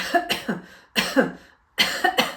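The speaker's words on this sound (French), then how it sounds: "Et puis tu vas tousser." Three sharp coughs in succession, close and fairly loud, separated by brief pauses.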